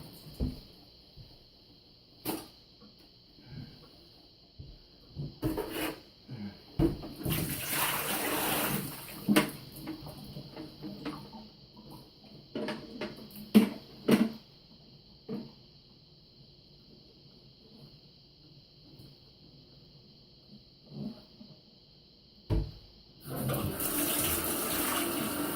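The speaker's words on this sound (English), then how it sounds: "Rinse it out one more time" Penn-Plax Cascade 1200 canister filter media rinsed under a running tap, bursts of splashing water between quieter moments and a strong gush at the end, with no voices.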